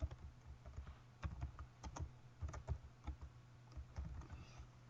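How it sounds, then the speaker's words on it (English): Keystrokes tapping out a business name on a computer keyboard during a CorelDraw design session, irregular bursts of close, crisp clicks with brief pauses between words, no talking. "then I would type in Gardner Farrier"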